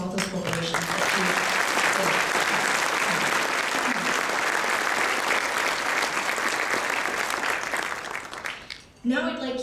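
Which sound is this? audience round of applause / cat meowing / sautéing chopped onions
audience round of applause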